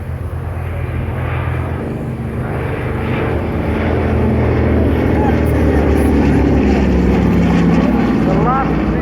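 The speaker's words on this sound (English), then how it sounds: "The last remaining tail dragger twin-engined aircraft in the RAF" A twin-engined tail-dragger propeller aircraft at the Welshpool air show gives a loud, steady engine drone that swells slightly as it passes, joined by brief crowd noise in the background.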